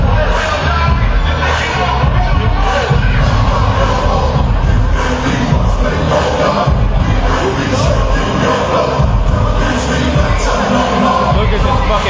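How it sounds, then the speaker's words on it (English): A packed crowd at a live Muay Thai podcast taping roars and cheers continuously, a loud, dense wash of voices and whoops with no break. "Look at this fucking packed crowd."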